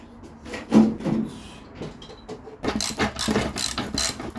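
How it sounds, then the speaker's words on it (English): Wrench or socket work on the bottom nut of a car suspension spring, on a 1975 Vauxhall Viva HC. Metallic clicks and scraping ratchet sounds come close up, busier in the second half. "Now let's get that nut off the bottom of the spring."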